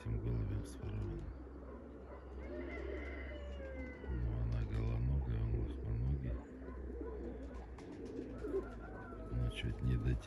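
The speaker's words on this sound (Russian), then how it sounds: "Вот эта голубочка. Она с этим голубем сворована." Pigeons coo close by in repeated throaty bursts and soft rolling calls, mixed with a person talking nearby and light background noise.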